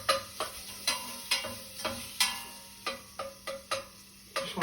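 Onions fry in a pan for a vegan chilli, a low sizzle underneath a series of sharp clacks and scrapes as a utensil stirs and knocks against the pan, spaced irregularly about every half second.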